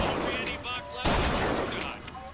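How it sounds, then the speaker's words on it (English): Rapid video game gunfire from BioShock Infinite crackles in a dense, continuous burst of shots mixed with game effects, loud and close throughout. "And this gun doesn't even need to reload, apparently."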